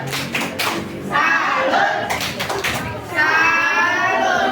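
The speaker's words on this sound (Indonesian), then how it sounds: "silakan kelompok 2 tepuk salut" A group of students in a classroom claps a rhythmic salute cheer, with a few sharp bursts of hand claps mixed among children's chatter and an adult voice talking.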